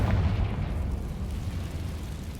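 A fire-blast explosion from the Confringo spell in the video game Hogwarts Legacy: a deep, rumbling boom that swells at the start and then rolls on as a steady low roar for a couple of seconds, with no talking.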